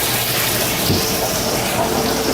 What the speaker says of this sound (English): So when it kicks on, you can see my water starts to recycle